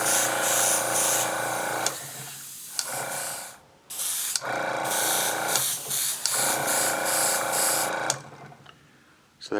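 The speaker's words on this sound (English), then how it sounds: "Now it's spraying much finer." An airbrush sprays paint on a vinyl car top in bursts of fine hissing, several sprays separated by short pauses, close to the microphone.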